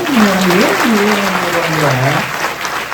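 Audience applause at a religious discourse, a dense, steady crowd clapping that lasts about three seconds while a voice carries on over it.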